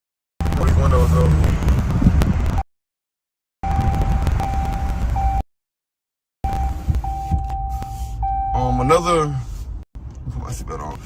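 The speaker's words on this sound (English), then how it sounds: "Put these windows up." Power windows motoring up inside a RAM 2500 Tradesman truck, a steady electric whine in short runs separated by pauses, with cabin and wind noise and a voice talking over it.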